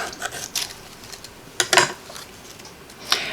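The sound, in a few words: spatula lifting cut paper pieces from a die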